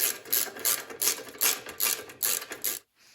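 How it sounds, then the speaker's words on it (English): Rapid ratcheting clicks in short regular bursts as the air intake is screwed back onto a 25-year-old MTD Yard Machines snow blower, close and alone, ending abruptly. "And now I'm just gonna screw the air intake back on."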